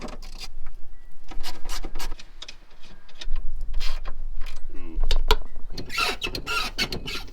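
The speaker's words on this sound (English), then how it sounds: "I'm going to turn this bolt in and increase the tension on it" A bolt is turned in on an AE86 or Sentra to tighten tension near a flimsy firewall and master cylinder, giving close, repeated ratcheting clicks and metallic creaks in short uneven bursts, without talk.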